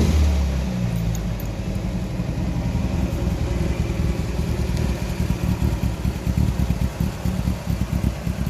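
A 1933 MG J2 engine revs up and holds, giving a loud, close, throbbing exhaust rumble with a steady pulsing beat and no voices.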